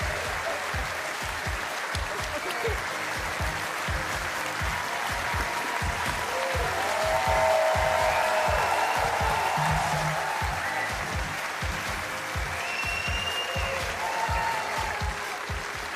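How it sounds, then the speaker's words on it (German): A big round of audience applause for a comedy act on stage, a thick, sustained roar of clapping from a large crowd that swells slightly in the middle and carries on for about sixteen seconds, with faint cheering mixed in. "Ein großer Applaus"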